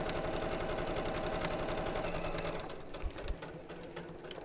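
A sewing machine runs steadily while stitching a seam on a cushion cover, a fast even mechanical whir that slows and stops partway through, followed by a couple of soft knocks.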